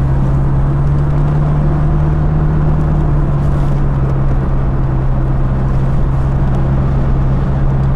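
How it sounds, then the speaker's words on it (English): A 1994 Saab 900 Turbo Convertible cruising on a road, its turbocharged engine a steady low drone heard from inside the cabin along with a constant whir and road noise, even and unbroken throughout. "I can feel the turbo boost is pulling the car along."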